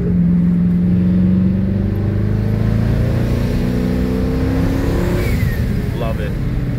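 A Dodge Hellcat fitted with a 30-year-old transmission drives on back roads, its engine droning loud and steady with a rising accelerating tone, and someone talks over it.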